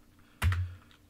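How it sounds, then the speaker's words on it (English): A single short clack of a computer keyboard key press while a password is entered, close and fairly soft against a quiet background. "Let's select the password. Type password in."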